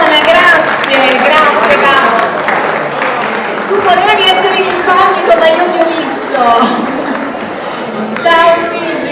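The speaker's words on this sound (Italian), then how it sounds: "un bel applauso al patron di Vito Luigi Tremonti" A crowd claps for the patron at an award ceremony for master pastry chefs at a national panettone fair, a sustained patter of applause running under continuous voices and crowd chatter in a busy hall.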